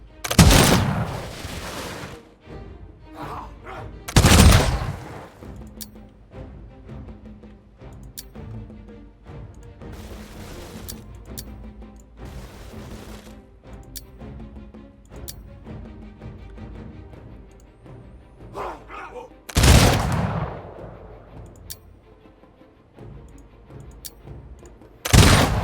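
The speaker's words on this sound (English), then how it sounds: "Gunfire time." Gunfire in the strategy video game Humankind, set in an industrial-era battle against the Spanish: loud broadband gunshot bursts at the start, near 4 seconds and near 20 seconds, with scattered lighter shots and a low battle rumble between them.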